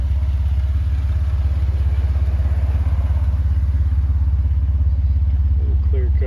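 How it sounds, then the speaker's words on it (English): A 2007 Jeep Wrangler Sahara with an aftermarket exhaust runs steadily, its low, even engine rumble holding close and loud the whole time, with a faint voice near the end. "It's got aftermarket exhaust on there."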